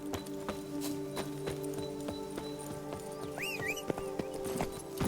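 Hooves of Roach, Geralt's horse in The Witcher 3, beat in a steady galloping clip-clop under a whinny and a bed of game music with a low hum, no voices over it.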